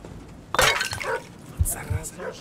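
A ceramic vase shatters in the horror game Metel - Horror Escape, a sudden close crash of breaking pieces followed by scattered clinks, with someone talking over it.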